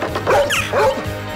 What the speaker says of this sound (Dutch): Hier zit een hond, is levensgevaarlijk.